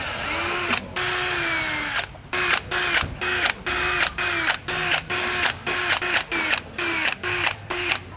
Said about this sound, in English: we can now take our 8mm drill bit and pre-drill all of the holes.